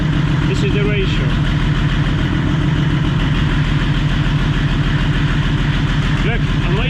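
A Nissan 200SX S14 race car fitted with an OM606 turbodiesel sits at idle, its engine giving a loud, close, continuous low rumble with a steady, even pulse throughout.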